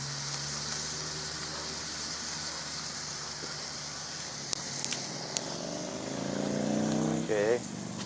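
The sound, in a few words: burger sizzling on a wood burning camp stove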